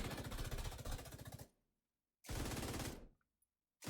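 Whiplash exotic pistol in a Destiny-style shooter firing rapid bursts, a dense rattling stream of shots for about a second and a half, then silence, then another sustained burst of close, loud fire.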